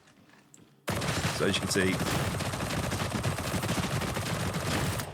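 Rapid, continuous gunfire from a Shredder pistol in Warhammer 40K: Darktide, a dense loud stream of shots that bursts in after a short quiet start and runs unbroken, with someone talking briefly at the opening.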